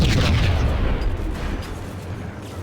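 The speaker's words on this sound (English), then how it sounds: "I always enjoy hearing the explosions before they happen." Explosion in the Max Payne video game, a loud rumbling low boom that starts strong and slowly trails off into a dull roar.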